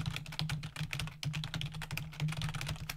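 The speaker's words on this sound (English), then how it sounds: "that is going to allow me to start typing" Rapid, continuous typing on a computer keyboard, close and clear, with dense overlapping key clicks in an uneven rhythm and a steady low hum underneath, no voices.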